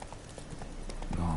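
Hooves clip-clop steadily on a horse ridden in a PS4 video game, a quick rhythmic patter under a faint voice and game noise, brief and moderately loud.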